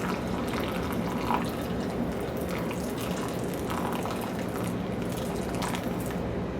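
Hot water trickles steadily onto coffee grounds in a Chemex 8-cup brewer for the bloom, a soft continuous pour with faint dripping, close and even throughout with no talking.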